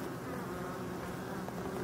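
Bees buzz densely around a forest hive, a close, continuous hum with no voices.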